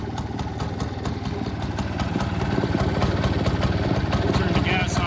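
A 1947 Frazer Farm Equipment walk-behind rototiller engine running steadily, a close, loud, evenly pulsing low chug that builds slightly in volume.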